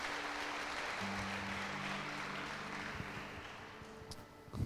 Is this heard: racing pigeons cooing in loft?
no